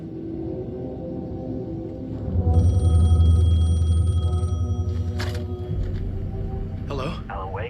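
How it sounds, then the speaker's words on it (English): A telephone rings in the video game Alan Wake 2, a steady electronic tone lasting a few seconds over a dark, low rumbling ambience. "The phone was ringing."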